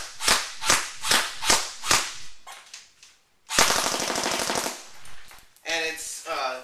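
JG Zombie Killer airsoft rifle with a PMAG-style magazine inserted, firing several rapid single shots in a steady rhythm, then a sustained full-auto burst, up close and loud with a brief voice at the end.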